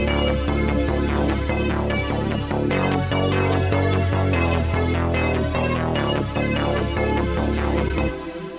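Layered Reaktor synthesizer music in 31-tone equal temperament, with a steady pad and rhythmic plucked notes, playing continuously and loudly, with slightly unusual, off-kilter intervals, then cutting off near the end.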